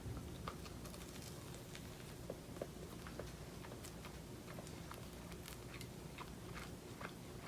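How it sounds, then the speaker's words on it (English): Bites into a crispy McDonald's Filet-O-Fish sandwich, heard as a run of faint, crisp crunching and chewing clicks close to the mic over a low background hum. "So here it is, the McDonald's fish fillet in all its beautiful glory. All right, so let's take a bite."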